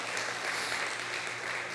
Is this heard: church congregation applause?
yes